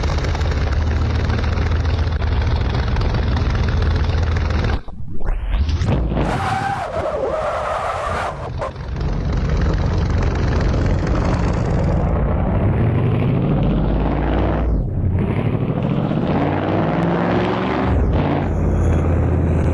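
A loud, continuous video game old truck engine roar with tire skidding and squealing, briefly dipping midway before the revving resumes.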